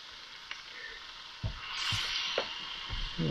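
A muffin toasts in butter in a pan over low heat at a snowy spring campsite. A soft, continuous sizzle builds midway, with scattered light clicks and taps from the pan.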